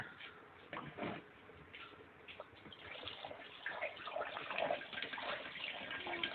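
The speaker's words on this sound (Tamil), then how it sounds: "இப்ப தண்ணி ஊத்துறோம்." Water is poured into a wood-fired water heater boiler in Ooty, a continuous splashing, rushing flow that grows steadily louder and denser, with occasional knocks and clanks from the metal tank in the background.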